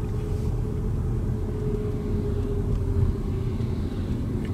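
A Volkswagen T-Cross R-Line cruising on the highway around 80–100 km/h at relatively low revs, a steady low engine and road rumble from inside the cabin, with no one talking.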